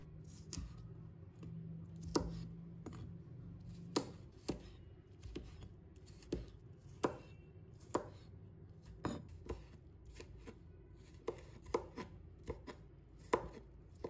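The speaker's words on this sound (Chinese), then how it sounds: "把拍好的黄瓜切成小段，它的长短可以根据自己喜欢来切" Knife chopping smashed cucumber into short pieces on a cutting board for a cold cucumber salad, a quiet series of sharp, irregularly spaced chops with no talking.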